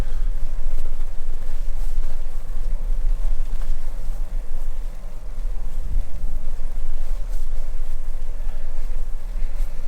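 Heavy wind buffets the microphone while a cyclist rides along a road, a constant low roar and rumble with gusty swells, loud and close with no talk.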